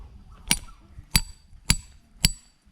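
Four sharp hammer strikes driving pegs into a tree trunk, a tamarind, evenly spaced about half a second apart, each a bright ringing knock close by, with faint background noise between blows.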